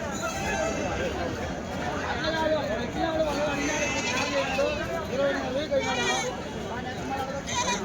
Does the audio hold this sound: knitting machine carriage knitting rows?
no